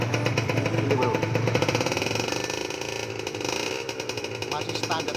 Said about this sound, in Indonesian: Suara mesin masih garing bro, full garing, full kering ini bro.